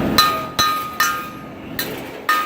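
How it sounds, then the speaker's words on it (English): Sharp metallic chips and clinks as slag is knocked off a stick (SMAW) weld bead, five distinct strikes spaced roughly half a second apart, close and crisp. "The great thing about this rod is that it has this big old slag build off that"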